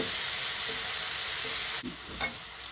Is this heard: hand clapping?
no